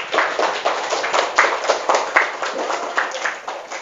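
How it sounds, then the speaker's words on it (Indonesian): A classroom of students clapping their hands together, a steady run of fairly loud, slightly uneven claps with a few sharper accents, close by and without any talking over it. "Tepuk tangan dulu semuanya."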